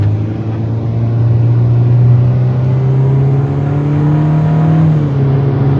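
Hyundai Stargazer MPV with a CVT accelerating at full throttle, a loud steady engine drone whose pitch climbs slowly and evenly, heard from inside the car with no talking.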